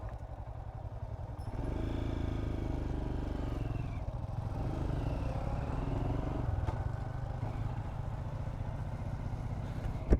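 A motorcycle engine drones steadily and close by while riding a mountain road, with rising and falling revs and some rattling, no voices, ending in a sharp knock.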